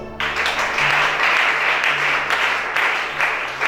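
A church congregation bursting into loud, sustained applause and cheering that fills the room evenly from start to finish.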